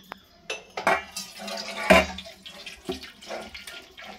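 Starch water is drained off cooked rice in a metal pot for panta bhat: several clanks of the pot and lid over a soft trickle of water, close and fairly quiet, with no talk.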